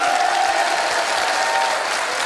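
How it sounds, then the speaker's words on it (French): Studio audience applause on a Belgian TV game show, a brief burst of dense, steady clapping heard close and loud. "Vos applaudissements étaient mérités"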